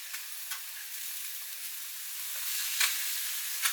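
Steak, onions and an egg sizzle on a hot griddle, a steady soft hiss with a few brief crackles and pops, fairly quiet with no talk.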